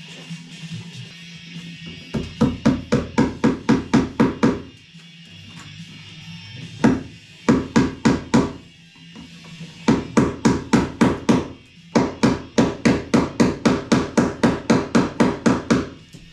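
Hammer blows tacking sheetrock to a ceiling, struck in quick rhythmic bursts of about six to eight sharp knocks each, loud and close, with short pauses between runs.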